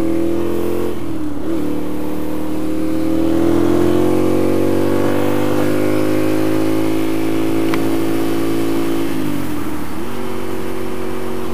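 A loud motorcycle engine, heard close up, accelerates in one long sustained rising pull and then drops off near the end. No one speaks.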